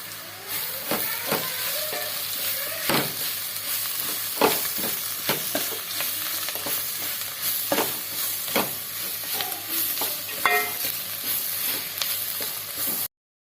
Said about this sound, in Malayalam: നമ്മുടെ കരൾ തിളച്ചുകൊണ്ടിരിക്കുവാണ്.